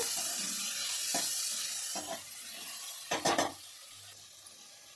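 Turmeric, ginger-garlic paste and tomato sizzle and fry in a pan while being stirred, a soft steady hiss broken by a few short scraping stirs close by.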